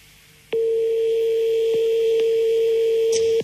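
On a telephone call, a ringing tone cuts in abruptly as a loud, steady single-pitch tone and holds unbroken, with a few faint clicks on the line.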